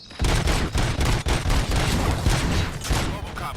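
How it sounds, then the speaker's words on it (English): Rapid bursts of gunfire crackle in the RoboCop: Rogue City video game, a dense, loud fusillade of overlapping shots with brief gaps between volleys. "Gunshots? What's going on?"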